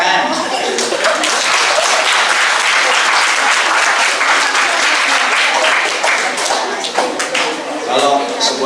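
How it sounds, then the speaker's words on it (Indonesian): Sustained audience applause at a funeral-rites training session fills the whole stretch, loud and dense with bursts of individual claps, and faint voices sit under it. "Tepuk tangan."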